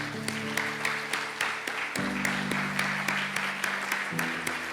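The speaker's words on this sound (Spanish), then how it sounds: "Un fuerte aplauso." A church congregation applauds steadily for several seconds, the dense clapping sitting over sustained keyboard or organ chords that shift partway through.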